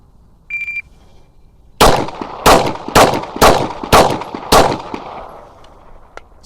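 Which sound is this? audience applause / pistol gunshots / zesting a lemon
pistol gunshots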